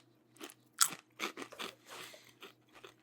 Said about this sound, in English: great crunch